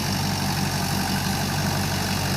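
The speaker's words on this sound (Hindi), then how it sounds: "आप देख सकते हैं, ये ट्रैक्टर के द्वारा से लेव मचाया जा रहा है।" Tractor engine running steadily as it puddles a muddy paddy field, a continuous loud low drone with an even throb and no talking.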